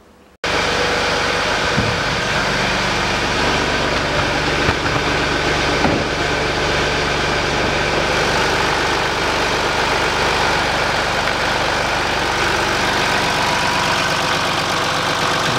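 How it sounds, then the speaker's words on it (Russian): A 2006 Land Rover Discovery 3 engine turns over and settles into a steady idle, a close continuous mechanical drone with a faint low knock, running evenly without speech. "Двигатель вот работает нормально"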